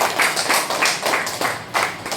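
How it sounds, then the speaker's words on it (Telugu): A group applauds at a wedding anniversary gathering with a shared meal, steady overlapping claps pulsing in quick waves, fairly close and loud, with no talk over them. "మనం అందరం ఒకసారి మన చప్పట్ల ద్వారా వీళ్ళకి పెళ్లి రోజు తెలియజేయండి"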